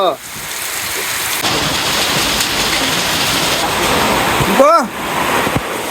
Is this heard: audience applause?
no